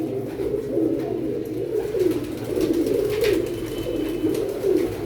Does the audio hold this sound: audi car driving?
no